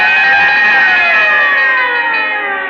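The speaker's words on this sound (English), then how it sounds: "whenever you hear the siren and bell, think of Texaco Fire Chief Gasoline" A Texaco Fire Chief siren wails loud and close, its steady rising tone holding then gliding downward over nearly three seconds, with no bell clearly audible.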